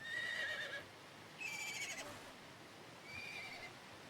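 Horse neighing in the video game Dawn of Man: three separate high whinnies, each about half a second long, spaced apart over a soft steady background with no talk.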